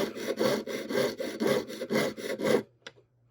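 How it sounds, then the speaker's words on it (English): A hand saw rasps back and forth in about six even strokes, back sawing to cut a starting groove, close and loud, then stops abruptly with a faint click afterward. "That's called back sawing, and it makes like a little groove. And then you can saw"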